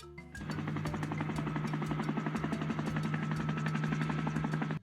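A helicopter's steady rotor thrum and engine whine run continuously at an even level, with no voices.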